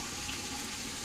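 Running water, a steady dense hiss filling the whole short moment with no break.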